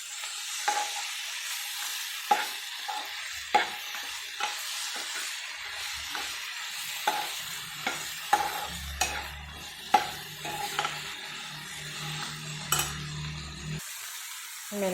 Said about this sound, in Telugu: ఇది మెంతికూర కూడా బాగా ఫ్రై అవ్వాలి.